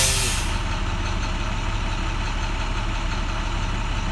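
An International Maxforce DT diesel truck engine idles in a steady, loud, low rumble that holds unchanged throughout, after a brief burst of hiss at the start, with no talk.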